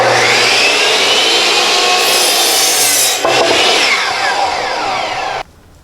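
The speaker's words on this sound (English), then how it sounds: "Or you can use even a hand saw or a circular saw to do this." A power saw cuts through wooden boards for a garden bed with a loud, steady whining rasp that shifts partway through the cut and then stops abruptly near the end.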